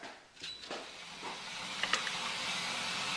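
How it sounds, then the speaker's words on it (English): Beef stew simmering in a pot on a stovetop burner, a steady broadband hiss and steam rush rising and holding, with a few faint bubbling pops and clinks, no talking. "Oh, now it's boiling."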